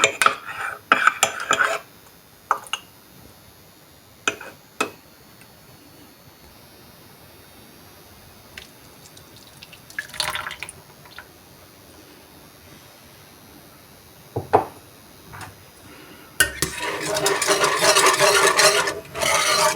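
A spoon scrapes and clinks against a metal pot while a semai mixture is stirred into milk, with sporadic taps and scrapes, then a louder continuous rubbing stir near the end.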